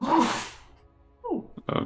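A single sharp sneeze bursts out close and loud during a tabletop role-playing game session, followed by a few soft vocal sounds.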